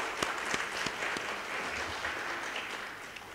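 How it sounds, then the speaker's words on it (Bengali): An audience at a national symposium on private sector disaster risk work claps together in a dense, sustained round of applause with a few sharp individual claps, heard without any talking. "আমরা একটা জোরে হাততালি দিতে চাই"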